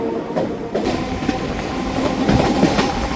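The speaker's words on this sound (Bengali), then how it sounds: "শিয়ালদা থেকে তিন নম্বর প্ল্যাটফর্ম থেকে আমাদের কৃষ্ণনগর লোকাল ট্রেন ছেড়ে দিল" A Krishnanagar local train rumbles steadily along the tracks after leaving Sealdah, its wheels clattering in a rough, continuous rhythm close by, with no voices.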